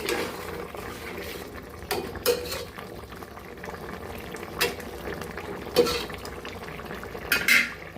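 A cooking pot of curry is lifted off a stove, with a few metallic clanks and scrapes over the low bubbling of the cooking and a clatter near the end.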